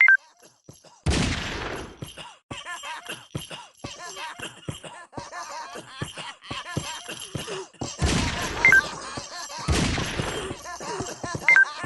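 Gunshots in the mobile video game Frequency Missing come as a few loud, sharp blasts and crashing impacts mixed with game sounds and effects, with talk running throughout.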